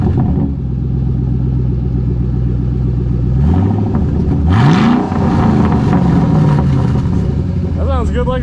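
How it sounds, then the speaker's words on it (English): A Mustang GT500 with new Flowmaster Outlaw exhausts after a muffler delete rumbles loudly at idle, then revs in several rising sweeps with a deep, throaty roar, close by. "we're gonna have the first start of the new Flowmaster Outlaws"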